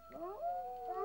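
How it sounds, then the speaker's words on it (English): Several coyotes howl together outdoors at night, overlapping wavering yips and rising-falling howls blending into a continuous chorus, distant and fairly faint, with no talking. "Oh, you hear that? Coyotes are out."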